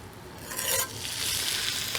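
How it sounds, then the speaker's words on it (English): A cowboy steak sizzles in a warm pan, giving off a soft, steady frying hiss that swells briefly, close by and with no talking. "You hear that little sizzle."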